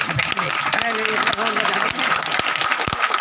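A crowd applauds in honour of a martyr at a patriotic gathering, with continuous clapping under a voice speaking over it.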